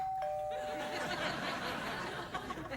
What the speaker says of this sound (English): It says doorbell when I pressed it,